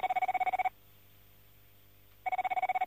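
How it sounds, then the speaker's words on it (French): A telephone ringing in a radio studio: a fast warbling double-tone ring lasting under a second, a pause of about a second and a half, then the ring starts again, loud and close with no voices. "Qu'est-ce que c'est que cette sonnerie ?"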